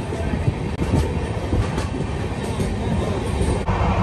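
Steady rumble of a moving train heard from inside the carriage, continuous and close, with a dense low roar and occasional faint clicks of the wheels.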